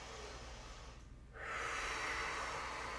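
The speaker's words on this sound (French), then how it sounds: "Je vais faire une grande respiration ici." A person takes one deep breath during a prenatal exercise routine, an inhale followed by a longer, louder, airy exhale close to the microphone, with no talk.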